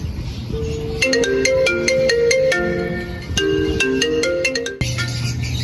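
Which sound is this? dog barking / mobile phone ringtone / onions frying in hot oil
mobile phone ringtone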